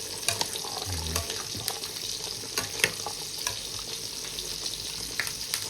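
Pork sizzles and crackles steadily as it fries in a hot pan, with occasional spatters and a few soft clinks of stirring.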